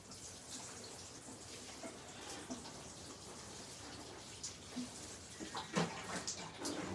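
A small amount of water is poured over seedlings sitting in a tray, giving a faint, steady trickle with light splashes and drips. The sound is quiet and close.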